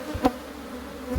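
Honeybees hum around an opened hive during a frame inspection, likely a caught swarm, giving a steady low drone with a brief louder swell as a bee passes close.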